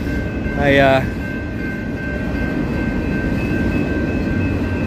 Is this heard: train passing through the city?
yes